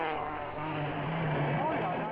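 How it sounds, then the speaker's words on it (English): A rally race car at the Citroën Rally in France speeds past with a strained engine note that rises and shifts in pitch, fairly loud and steady throughout the short span. "Video was taken at a famous car race in France called the Citroën Rally."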